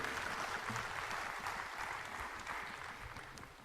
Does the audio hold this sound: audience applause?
yes